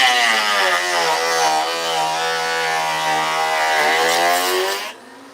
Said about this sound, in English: we'll just send this through the planer